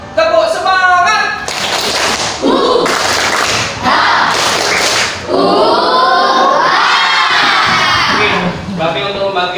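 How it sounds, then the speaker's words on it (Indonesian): Primary school class of children doing a rhythmic spirit clap in a classroom, loud bursts of patterned clapping and shouting mixed with a teacher's voice. "Ayo kita sama-sama jaga kesehatan. Tepuk semangat!"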